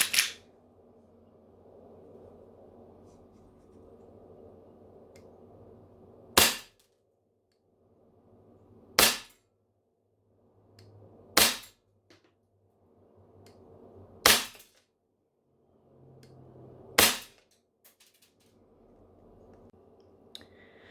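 Airsoft gun powered by 2.0 neutral gas fires six sharp, spaced-out shots, each a crisp loud crack separated by a few seconds of low background hum, with a faint clicking between some shots.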